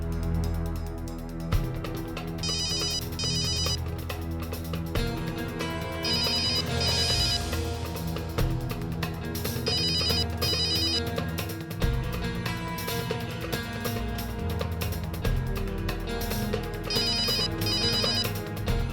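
A phone ringtone plays over and over, a repeating melodic ring in regular bursts that goes on for a long stretch without being answered.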